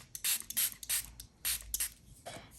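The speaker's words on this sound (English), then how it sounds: "I'm going to spray some water" A spray bottle fires about six quick, hissing spritzes of water onto an acrylic block in an irregular rhythm, close and fairly crisp, with brief pauses between them.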